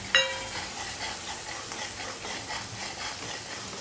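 Onion fries in a pan alongside pre-cooked pasta, a steady soft sizzle with faint stirring scrapes and a brief clink at the start.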